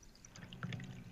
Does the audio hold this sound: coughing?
no